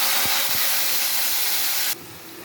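Onion frying in hot oil in a pan for a cauliflower and tomato curry, a loud steady hiss and crackle with a few dull knocks early on, the sizzle dropping sharply in level near the end.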